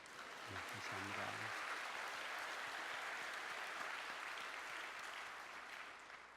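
A church congregation applauds steadily at a mission revival service, a dense, sustained wash of clapping that fills the whole stretch and fades slightly at the end, with a brief voice at the start.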